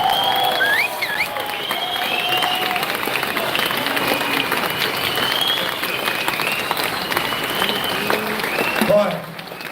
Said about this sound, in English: Please give her a massive round of applause.